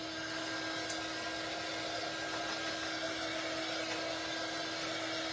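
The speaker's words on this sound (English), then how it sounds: "Let's hit it with the dryer." A handheld dryer blows steadily over a paper notebook craft project, making a constant, fairly faint whooshing hum with no break or change in pitch.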